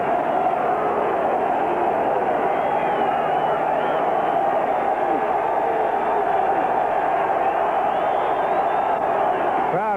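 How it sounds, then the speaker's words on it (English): Packed football stadium crowd at a 1985 UCLA at Tennessee college game, a loud, sustained roar of cheering thousands, steady and dense throughout with no break. "Crowd getting into it."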